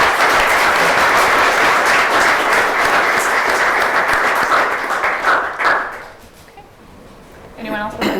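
A city council meeting audience in Wilkes-Barre gives a dense round of applause that carries on for several seconds, then thins out and stops, leaving room noise and a brief murmur of voices.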